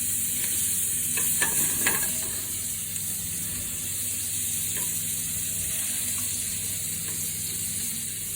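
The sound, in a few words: frying and stirring in a pan for shrimp risotto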